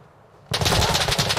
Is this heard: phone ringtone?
no